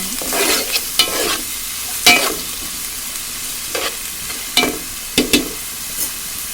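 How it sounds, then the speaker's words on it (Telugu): Onions are stirred in hot oil in a pan for a Godavari-style tamarind fish curry, a soft steady sizzle broken by several sharp scraping stirs of a spoon at irregular intervals, close up, with no voices. "ఉల్లిపాయలు వేసేస్తున్నాను. ఉల్లిపాయలు కూడా బాగా నూనెలో బాగా కలుపుకోవాలండి."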